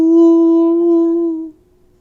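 A voice imitates a lawnmower's steady zooming noise with a single sustained, even hum that holds level for about a second and a half, then cuts off abruptly.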